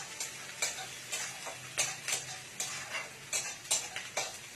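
Onions fry in a pan for chicken curry, sizzling softly under a regular rhythm of spoon-on-pan stirring strokes, about ten distinct scrapes in steady succession, close and fairly quiet.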